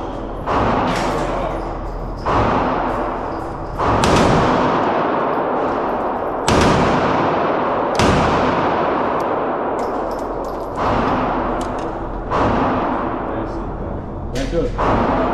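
Gunshots at a gun range ring out one at a time, about eight loud sharp cracks, each with a long ringing decay, spaced a second or two apart.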